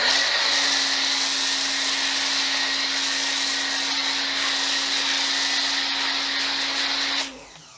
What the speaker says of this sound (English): that is using an active VE52 pressure washer that is W4 citrus foam from G-Technic